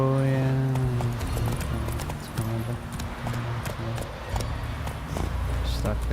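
Roach, Geralt's horse in The Witcher 3: Wild Hunt, gallops with steady clip-clop hoofbeats close by, under game music and occasional short spoken remarks.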